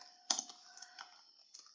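Quiet keystrokes on a computer keyboard while entering a command during a security lab exercise, a few sparse clicks with one louder cluster of taps, heard alone with no talking.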